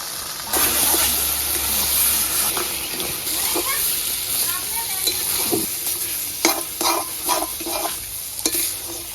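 Oil sizzles steadily in a pan while fried fish is stirred into taro greens with green chillies, with scraping clatters and a few sharper knocks toward the end.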